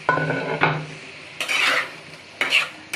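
Chicken kebab balls dropped into a pan of cooked spices, giving a few separate clattering stirs and scrapes of metal on metal, close up, with a faint sizzle underneath.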